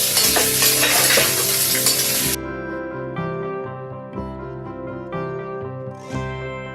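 Cauliflower and carrot fry in a pan for vegetable dalia khichdi. A loud, dense sizzle with stirring lasts about two seconds, then cuts off abruptly and gives way to music.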